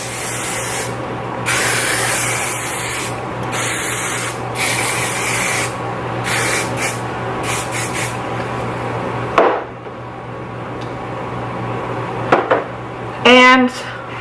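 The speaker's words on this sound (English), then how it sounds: "And then I put in quite a bit of hairspray this time." Hairspray hisses onto hair in several separate bursts, fairly close and loud, with short pauses between sprays and a voice briefly heard near the end.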